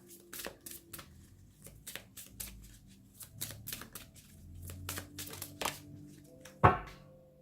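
Oracle des anges de l'amour cards shuffled by hand in a quiet room, giving a string of crisp papery flicks and soft riffling taps at a steady pace, ending in one sharper thunk as a card drops out.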